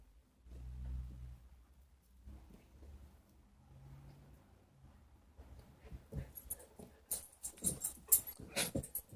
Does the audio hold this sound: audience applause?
no